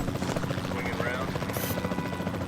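Helicopter in the dinosaur-park game Jurassic World Evolution 2, a steady close rotor thrum and engine whine filling the whole short stretch at even loudness.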